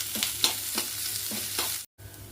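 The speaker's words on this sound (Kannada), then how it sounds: "ಹಿಂಗೆ ಕೆಂಪಾಗಿ ಸಣ್ಣ ಉರಿ ಒಳಗೆ ಹುರ್ಕೋಬೇಕು." Onions fry on a low flame for chutney powder while being stirred, with soft sizzling under about five rhythmic scraping strokes of the spoon before a brief drop to silence.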